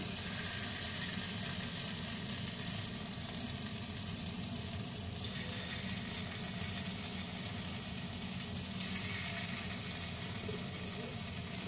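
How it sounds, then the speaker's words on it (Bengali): Small poppy seed fritters dropped into hot mustard oil in a kadai sizzle and fry steadily, a dense, even crackle that carries on alone throughout. "এবার সর্ষের তেলের মধ্যে ছোট ছোট আকারে বড়াগুলোকে আমি দিয়ে দিচ্ছি।"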